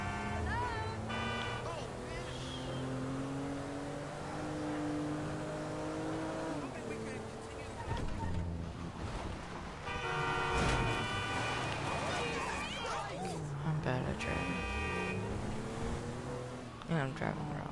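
A car in the GTA 5 video game is driven the wrong way, its engine note rising and falling through repeated revving and acceleration, with brief tire squeals, all under frequent loud talk and shouting.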